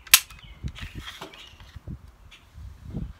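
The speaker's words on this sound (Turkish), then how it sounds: "Sökerken silah geriye tıklayıp mandalı çeviriyorsunuz arkadaşlar." A Girsan MC 9T pistol is taken apart, with one sharp, close metallic click of the slide followed by softer clicks and handling rattles.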